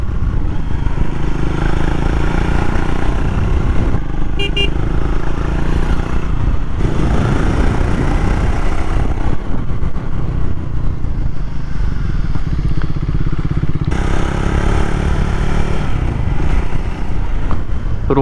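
A Triumph Speed 400 motorcycle ridden on a somewhat rough road. The engine note is close and continuous, rising and falling with throttle and gear changes, with wind rush and no speech.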